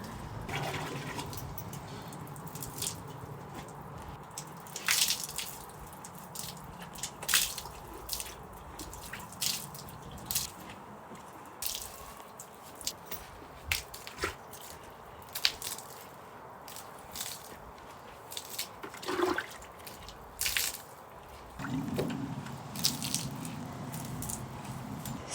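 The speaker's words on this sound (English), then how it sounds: "it's time to start washing the soapy water off" Water streams and splashes over a dog's soapy coat as it is rinsed, with a continuous wet patter broken by squishy bursts and drips, close and fairly steady, no voices.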